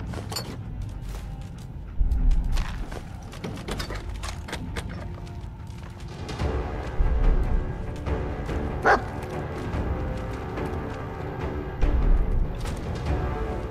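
A dog in the video game Fallout 4 barks and yips in short scattered bursts over busy game sounds and mechanical noises, moderately loud across the whole stretch.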